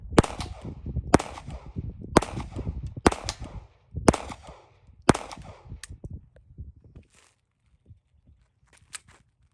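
Sig P322 pistol fired at an outdoor shooting range: six loud, sharp reports about one second apart, each with a short ringing tail, followed by faint distant shots and small handling noises.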